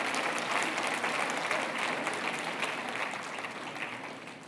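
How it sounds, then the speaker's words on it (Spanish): An audience at a lecture claps steadily in a full, dense round of applause that gradually fades toward the end. "Ahora se aplauden, ¿verdad?"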